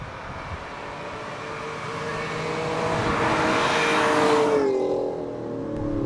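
An Alfa Romeo 155 with the Busso V6 engine runs and builds revs in a smooth, rising drone, swelling louder toward a peak before easing off, heard from inside or close to the car with no talking.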